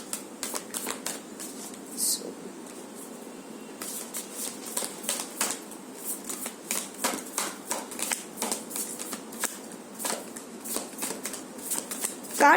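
Tarot cards are shuffled close up in a long run of crisp, rapid riffling and flicking bursts, repeating steadily with short gaps between them.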